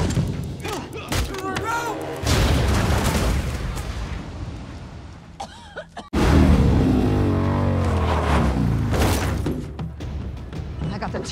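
A grenade blast in a Captain America: Civil War (2016) fight scene, a heavy broadband thump around the six-second mark followed by a loud, sustained rumble and debris, with voices and other action sounds before it.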